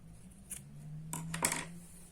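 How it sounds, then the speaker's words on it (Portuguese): Scissors snip through crochet thread while finishing a handmade bag, giving a few soft, close clicks and short snips over a faint low hum. "Aqui a gente já pode cortar o nosso fio"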